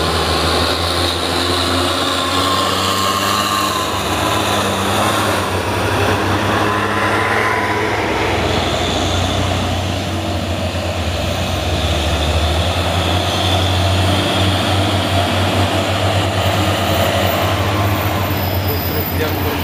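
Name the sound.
heavily loaded truck passing by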